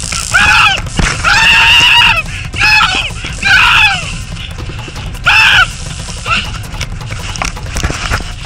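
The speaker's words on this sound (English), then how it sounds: "There's something screaming over there." Shrill, coyote-like screams ring out in a homemade haunted forest at Halloween. There are several loud drawn-out wails with gaps between them, and breathy noise and faint movement sit underneath.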